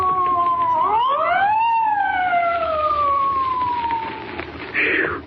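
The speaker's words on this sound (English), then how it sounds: "Spike, there's a police car coming up." A police car siren wails loud and close, rising then slowly falling in pitch as the car passes, with steady road noise beneath.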